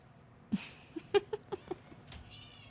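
Several cats meow indoors in a quick series of short, close calls, one louder opening cry followed by a run of smaller mews, with faint background noise and no talking.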